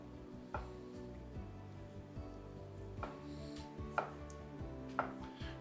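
A knife cuts butternut squash into large chunks on a cutting board, giving a few quiet, separate chops about a second apart that land as soft thuds with light clicks.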